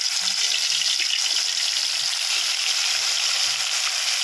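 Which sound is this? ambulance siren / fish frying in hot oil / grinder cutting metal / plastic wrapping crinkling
fish frying in hot oil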